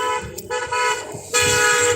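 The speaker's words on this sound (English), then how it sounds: "you're going to be hearing a lot of that honking shortly" Freedom Convoy vehicle horns honking loudly in overlapping blasts, some short toots and some long sustained tones, layered over a rumble of traffic close by.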